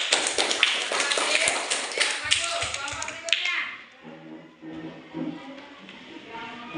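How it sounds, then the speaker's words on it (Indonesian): Audience clapping at an Islamic storytelling session about Umar bin Khattab, a burst of quick, loud claps lasting a few seconds that fades, followed by quieter talking. "Oke, tepuk tangan."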